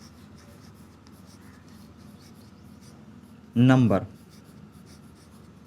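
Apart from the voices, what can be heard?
writing on a board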